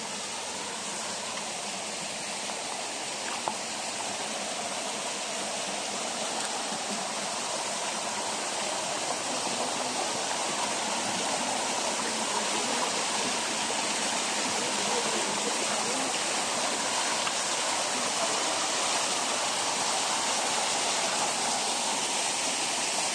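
Tondulan Falls in Alegria, about 16 feet high, sends out a constant loud rushing roar of falling water that fills the whole stretch without a break, heard up close and steady.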